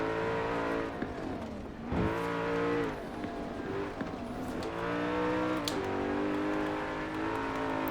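Koenigsegg supercar engine in Forza Horizon 4, loud and close, revving up and down through rising harmonic sweeps with gear changes and a brief drop around two seconds, no talk.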